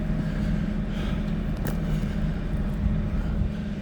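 A TR3 machine rough grading ground, a steady low engine drone with continuous rumble throughout, close and fairly loud, with no voices.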